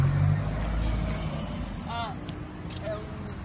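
Van rolling past outside the Portugal national team training centre, a low engine rumble loud at first then easing off, with people talking nearby and faint chirps in the background.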